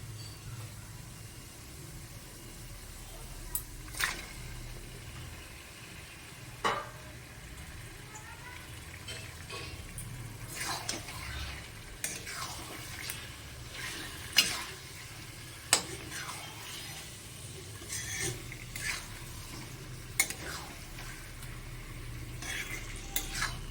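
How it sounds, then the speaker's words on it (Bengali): Bombay duck (lote) fish frying in a spice masala, a low steady sizzle with scattered scrapes and clinks of a spoon against the pan, while someone talks nearby. "এবার এর মধ্যে আমি লোটে মাছটা দিয়ে দেবো"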